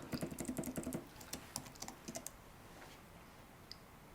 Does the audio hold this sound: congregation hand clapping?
no